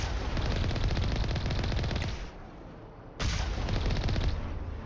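Turret gunfire in the video game Mass Effect rattles in dense, loud rapid bursts, pausing briefly before a second sustained volley.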